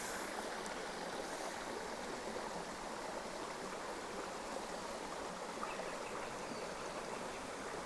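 A steady rush of the Santa Margarita River flowing through a narrow stretch, continuous and fairly close, with a broad hissing texture and no voices.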